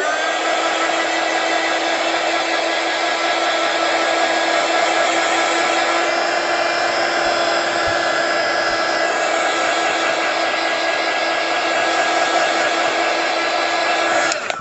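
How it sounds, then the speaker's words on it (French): A heat gun blows hot air over a stamped card in a crafting session, a loud, steady whirring hum with a constant tone that runs unbroken from start to finish. "Je vais faire juste un petit coup de heat gun là parce que ça sèche pas."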